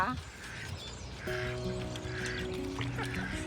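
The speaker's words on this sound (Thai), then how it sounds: "เดี๋ยวแม่มาเปิดเล้าให้น้องเป็ดก่อนค่ะ" Ducks on an organic duck farm quack loudly and repeatedly as their coop is opened. A mechanical rattle from the coop is heard at the start, and a voice is partly heard among the quacks.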